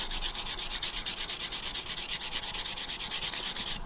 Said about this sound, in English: give it a couple more passes on the inside, just to help remove that burr